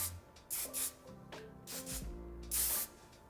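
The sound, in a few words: hairspray being sprayed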